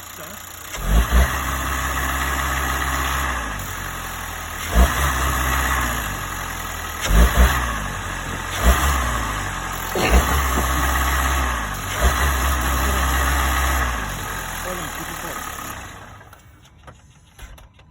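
A Hyundai car engine runs steadily with a loud, gritty mid-range drone, repeatedly punctuated by sharp revs and knocks, before cutting away near the end.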